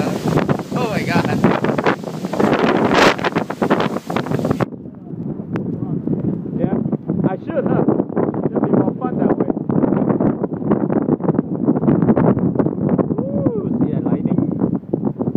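Wind-driven rainstorm with heavy gusts buffeting the microphone, loud and continuous from start to finish, with people talking over it throughout.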